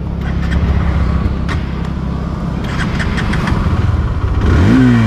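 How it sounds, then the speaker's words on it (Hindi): A Hero Xtreme 160R 4V motorcycle, a 160cc bike, is started up close, with a brief cranking churn giving way to a steady idling thump and a rising rev at the end. "तो आपने देखा बाइक स्टार्ट हो गया है"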